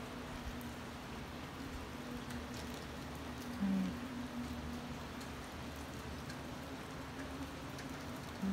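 Steady rain falling outdoors, a continuous even patter of drops on surfaces with a brief louder splash midway, no voices.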